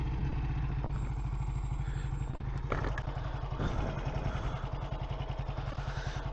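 A 1948 Vincent Rapide motorcycle on a ride, its engine loud and close with a steady, pulsing thump and some clattering throughout.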